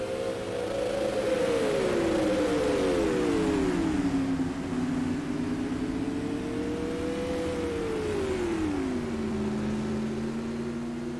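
Race cars lapping Oswego Speedway during a 50-lap supermodified feature, engines droning and rising and falling in pitch as the cars pass, fairly loud and continuous with no talk over it.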